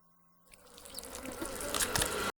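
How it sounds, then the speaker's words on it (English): A swelling drone of buzzing flies used as a sound effect in an analog horror piece, fading in from near silence and growing louder and denser before cutting off abruptly, with no talking over it. "you can hear the flies buzzing"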